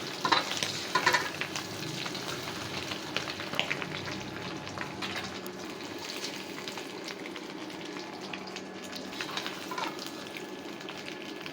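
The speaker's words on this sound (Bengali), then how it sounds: "এই তেলে আলু ভাজা নেব" Hot oil crackles in a pan while cooking egg bhuna, with eggs fried first and potatoes next. A steady close-up sizzle runs throughout with intermittent stirring scrapes, and no voices are heard.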